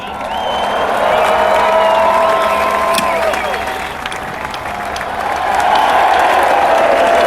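A large crowd cheers and applauds as racing driver Sam Bird is presented his winning trophy by royalty, a loud, sustained roar of clapping and whoops that dips briefly midway, then swells again.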